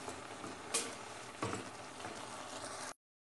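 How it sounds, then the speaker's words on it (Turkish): Mushrooms frying in a pan for cream of mushroom soup give a steady, soft sizzle with two brief louder stirring scrapes, close and quiet, ending in abrupt silence. "Mantar suyunu çekene kadar iyice pişiriyoruz,"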